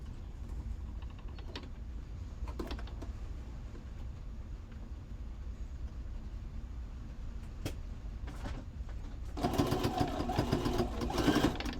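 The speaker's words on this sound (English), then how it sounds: "I'm just going to flip that round and sew that salvage edge down." A sewing machine stitches down the selvage edge of fabric for a journal cover, a faint mechanical whir under steady room noise, with a louder, denser burst of stitching near the end.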